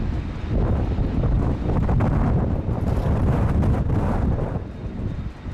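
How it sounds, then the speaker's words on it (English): Strong wind buffets the microphone at Sydney Airport, a loud continuous roaring rush with gusty swells that hold steady throughout and ease slightly near the end. "That wind is not letting up."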